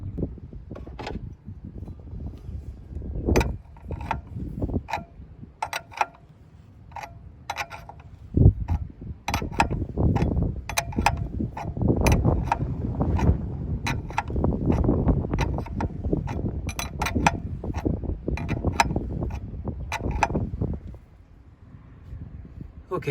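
A fuel line fitting tightened by hand on a 2015 Hyundai Santa Fe during a fuel leak repair: scattered metallic clicks and knocks, with rustling handling noise in between, fairly close and moderately loud.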